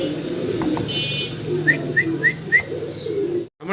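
Green-necked pigeons at a pigeon seller's loft give several short, close coos in a quick series, over a steady background murmur of other birds and noise.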